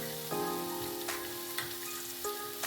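Chilli and masala mixture frying in a pan for matar kachori, a continuous close sizzle with a few soft stirring knocks, no voices.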